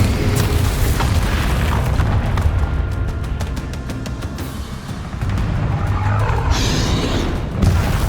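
Heavy spell explosions from Hogwarts Legacy boom loudly one after another, a dense, rumbling barrage with rapid crackling bursts layered over a sustained low roar.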